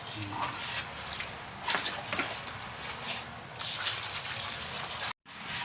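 Water pours into a dry mound of marble chip flooring mix, a steady splashing gush running under background noise, with a brief drop out near the end.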